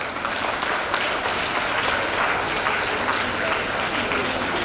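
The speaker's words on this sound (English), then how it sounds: "Yet, celebrate, clap your hands for them." An audience at a college golden jubilee valedictory function claps for the college's ladies, a continuous, even roar of many hands, moderately loud and sustained throughout without talk.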